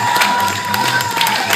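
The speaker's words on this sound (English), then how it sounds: "So, a round of applause." A crowd cheers and applauds for touring Australian ten-dance dancesport champions, a loud dense wash of cheering and clapping with a sustained tone running underneath.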